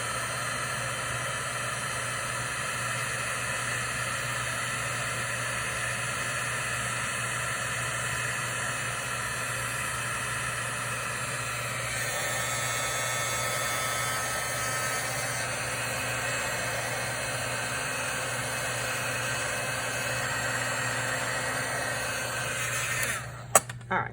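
A heat tool warming embossing powder on a craft tag gives a steady, even blowing hum that runs unbroken for the full stretch and clicks off at the end.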